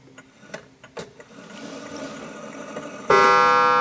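A 1950s Smiths Enfield striking mechanical mantel clock gives faint, irregular mechanical clicks and ticks at close range, and near the end a loud, sustained metallic chime strikes out.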